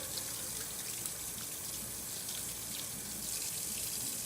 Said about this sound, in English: so we're lathering up everything here, and as you can see, I have soap already coming off it